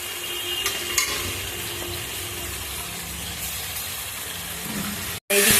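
Spice masala frying with onion in oil for a Bengali jackfruit curry, a steady close sizzle with stirring that runs evenly throughout, then cuts out briefly near the end before resuming.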